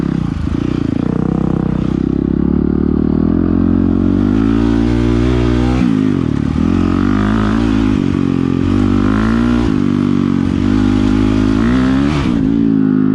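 A dirt motorcycle rides over rocky off-road terrain, its engine loud and close, rising and falling as the throttle is worked, with clattering and scraping from the rough ground underneath.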